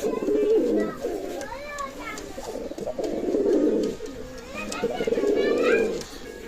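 Pigeons coo repeatedly up close, their soft throaty calls rising and falling in a steady rhythm.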